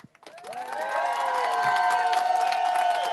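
A large crowd cheering, whooping and applauding at the finish of an Atlantic ocean rowing race, building quickly from a few voices into a loud sustained roar of mixed shouts and clapping.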